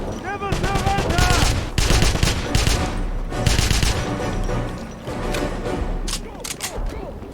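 Dense video-game gunfire from Wolfenstein (2009) rattles in rapid, overlapping bursts, mixed with shouted soldier voices and clattering action throughout.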